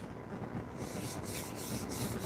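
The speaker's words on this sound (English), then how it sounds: "I just got some 150 grit sandpaper on this little sanding block." A 150-grit sandpaper block rubs across a wooden cutting board in steady, scratchy strokes, close and moderately loud, with no talk.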